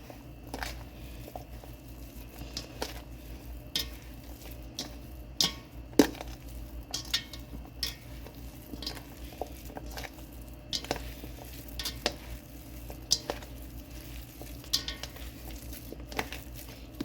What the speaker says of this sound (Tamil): ஏலக்காய் எல்லா கிழங்குலையும் சேர்ற மாதிரி நல்லா மிக்ஸ் பண்ணிக்கொள்ள வேணும்